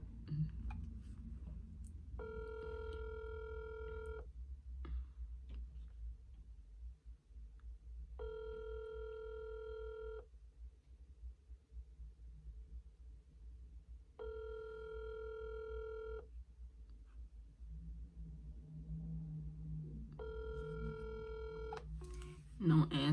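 A phone rings out unanswered: four evenly spaced ringback tones, each about two seconds long, repeat over a low background rumble, with a brief sharp noise at the very end.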